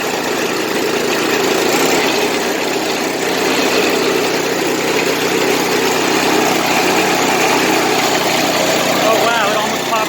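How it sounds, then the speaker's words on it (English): A trencher engine runs after being turned up, a loud steady rough drone with constant vibration that holds close and unbroken throughout. "Now we should turn this on, or up, turn it up"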